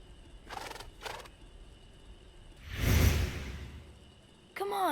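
A horse in the video game Alfred Hitchcock: Vertigo gives two short breathy snorts, then a louder whooshing exhale, followed by a brief tonal whinny at the end, all over a quiet ambient background.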